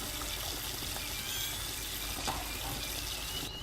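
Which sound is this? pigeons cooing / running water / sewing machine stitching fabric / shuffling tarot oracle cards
running water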